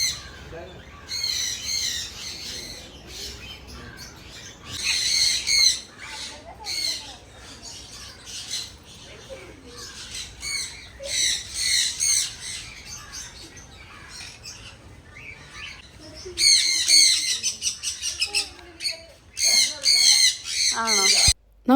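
Birds at a farm villa squawk in loud, harsh bursts over a stretch, interspersed with chirps and quieter gaps, while people talk nearby.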